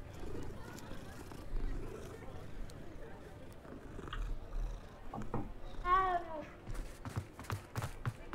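Cat purring and a short meow while being petted in Hogwarts Legacy, heard softly beneath a speaking voice and game background sound.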